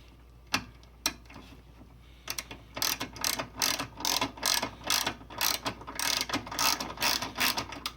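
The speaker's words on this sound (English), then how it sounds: "we're going to go ahead and insert one screw here and one screw here" Screws are driven into a front bumper panel of a Toyota Prius with a ratcheting driver, producing a few isolated clicks followed by a long run of quick, rhythmic ratchet clicks, close and fairly quiet, with no talking.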